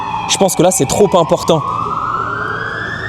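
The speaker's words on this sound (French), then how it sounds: "c'est une ambulance qui passe" An ambulance siren passes in the street, a steady wail that sweeps upward and carries on beneath someone talking in French, continuing alone after he stops.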